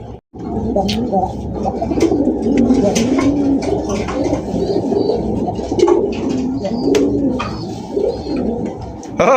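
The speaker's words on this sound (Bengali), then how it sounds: "এত সুন্দর কবুতর" Dhakaiya pigeons offered for sale coo in a close, continuous chorus of low, throaty calls that overlap one another throughout.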